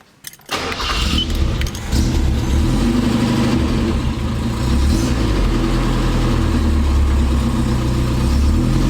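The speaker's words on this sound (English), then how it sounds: "The next part that you've got to do is start the vehicle." An old car's engine starting after a short rattle of keys: the starter catches within a second, and the motor settles into a loud, steady idle that runs on to the end.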